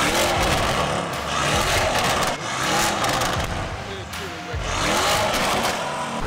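A Lamborghini Urus engine revs loudly and aggressively in a few repeated surges, each rising then easing off, recorded close and continuous with no speech.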